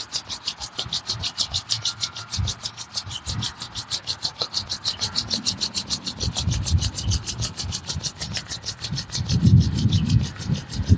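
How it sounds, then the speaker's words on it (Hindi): Two hands rubbed gently together in a yoga session, a close rhythmic rasping that repeats steadily and sits over faint low background sounds. "दोनों हाथ जेंटली रब करें"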